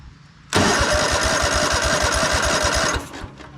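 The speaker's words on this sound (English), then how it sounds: "Let's just crank over the engine here and see what we have for compression." The engine of a Ferris 52-inch commercial walk-behind hydro lawn mower cranks over at full throttle for a compression test, a loud rapid rhythmic chugging starting abruptly and running for about two and a half seconds before cutting off.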